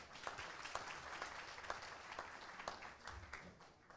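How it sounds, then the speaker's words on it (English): Audience applause for a panelist at an Apopka economic development realtor forum: a steady burst of many hands clapping that lasts about four seconds at moderate loudness, with no talking over it. "Please give her a round of applause."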